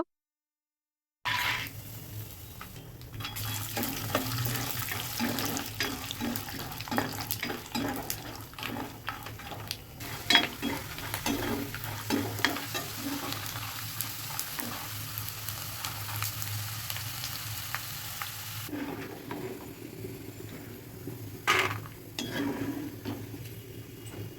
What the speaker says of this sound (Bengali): এখন উঠিয়ে নিয়ে বাদাম ভাজি করব